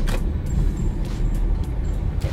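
A Toyota Vigo pickup truck drives along with a steady, close engine rumble and road noise that holds evenly throughout, with no talking.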